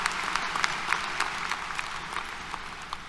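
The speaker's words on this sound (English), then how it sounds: "Let's give her one more round of applause." A Texas A&M University-Corpus Christi summer 2023 graduation audience gives a speaker a round of applause, a moderate and even wash of many hands clapping, heard at a slight distance.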